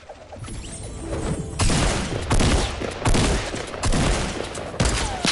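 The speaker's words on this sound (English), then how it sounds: "Just shoot out the floor." Rapid bursts of gunfire in Fortnite as someone shoots out the floor, loud crackling volleys coming in several clusters one after another, with no talk over them.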